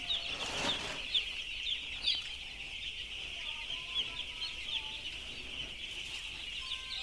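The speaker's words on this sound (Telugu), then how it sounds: "ఇదో చిన్న చిన్న కోడి పిల్లలు చిన్నగా ఉంది" Chickens and tiny chicks clucking and peeping fairly close by, with short bright chirps scattered over a steady noisy background and no talking.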